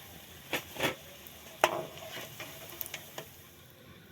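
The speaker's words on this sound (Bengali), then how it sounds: "এইভাবে সব ফুলকপি পকোড়াগুলোকে আমি ভেজে নেব" Cauliflower pakoras fry in oil, a faint low sizzle with a few scattered pops and light utensil taps, quiet and close with no voices.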